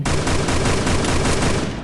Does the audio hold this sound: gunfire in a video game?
yes